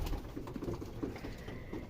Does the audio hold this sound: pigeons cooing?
yes